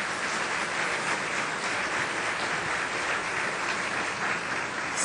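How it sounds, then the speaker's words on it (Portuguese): Steady, fairly quiet applause from an audience during a televised interview event, a continuous wash of clapping with no talk over it. "uma salva de palmas para..."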